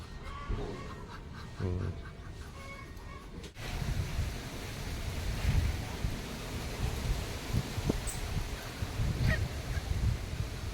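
Muscovy ducks and other farmyard fowl make scattered honks and calls against a steady outdoor hiss, fairly faint and distant, with a mechanical rattle early on and some quiet voices in the background.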